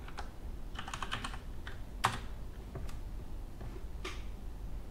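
Keys clatter steadily on a computer keyboard as a Pi-hole install command is typed in, with quick bursts of taps and one sharper keystroke, close and fairly quiet, with no voices.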